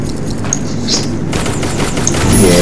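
Rapid bursts of gunfire in the video game Garena Free Fire rattle out in quick succession, with a sharp boom partway through and sustained shooting toward the end.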